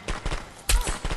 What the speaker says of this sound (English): Firecrackers make me happy inside, bro.